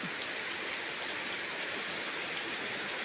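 Steady rain falling, a dense, even hiss with no pauses and no voices.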